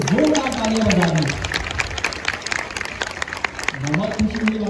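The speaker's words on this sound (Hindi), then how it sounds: "इनके लिए और हर वो बंदा जो बाहर से आ रहे हैं उनके लिए जोरदार तालियां बजा दें" Students in a class break into lively clapping that runs for a few seconds, with a voice talking before and after and briefly overlapping the applause.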